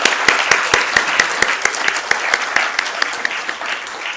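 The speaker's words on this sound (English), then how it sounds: "Can we have a huge round of applause for everyone in the room" Applause from a roomful of guests at an IPO listing ceremony for TVS Infrastructure Trust, loud steady clapping with distinct individual claps standing out near the front, sustained throughout.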